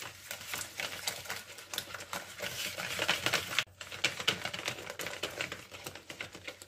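Two whole eggs and a yolk are stirred into brownie batter in a bowl, giving a quick, continuous scraping and tapping of a whisk or spoon, close and fairly quiet, with a short pause partway through.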